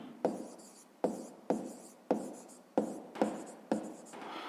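Pen strokes on paper as a fifth-grade math solution is written out by hand, a series of about seven short scratchy bursts in a steady rhythm, close and quiet.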